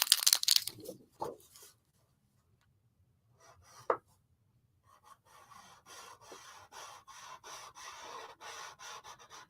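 A chisel-nib water-based marker scratches across paper in soft, dry rubbing strokes, a few isolated swipes at first and then a quick, steady run of short repeated strokes, close and quiet, with no talking.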